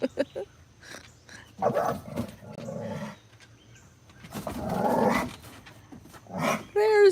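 Puppies play and scuffle with growls and short barks in bursts, close by, while a person talks over them at intervals.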